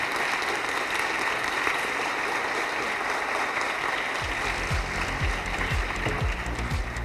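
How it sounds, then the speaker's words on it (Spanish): Dense audience applause at a seated talk event, steady and sustained across the whole stretch, with several low thumps near the end under the clapping. "quiero pedir un aplauso para Roberto."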